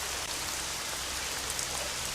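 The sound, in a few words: heavy stormy rain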